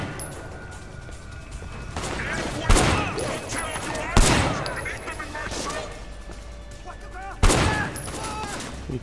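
Gunfire in the Sleeping Dogs video game: three sharp, loud shots spaced several seconds apart over a busy backdrop of game sounds, with a voice talking in between.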